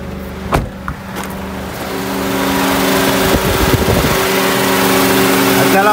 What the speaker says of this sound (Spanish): Acá el abanico funcionando, el compresor funcionando